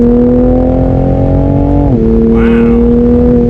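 A 2021 Toyota Supra's engine drones loudly and steadily under acceleration, its tone rising smoothly and then dropping briefly as a gear changes before climbing again, close and continuous with no talk.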